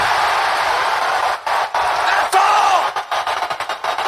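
A packed wrestling arena crowd roars loudly and continuously during a match, a dense wall of cheering that dips briefly a few times and then breaks into choppy, pulsing bursts.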